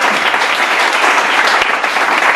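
A church congregation claps and applauds together, a dense, loud, continuous wash of hands close around the listener with no pauses.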